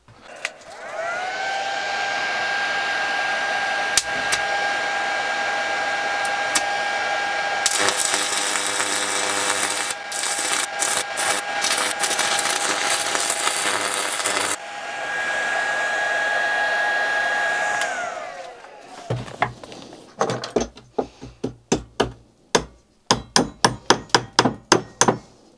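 A cheap Chinese handheld arc stick welder burns a rod into an inch-thick lump of steel, giving a loud steady hiss and crackle, then a stretch of harsh buzzing and, at the end, a run of sharp rapid clicks.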